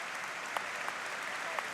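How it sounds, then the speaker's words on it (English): Football crowd at Hillsborough stadium applauding in memory of a Sheffield supporter, a dense sustained wash of distant clapping filling the ground with no break. "You'll hear the applause ringing around Hillsborough at the moment."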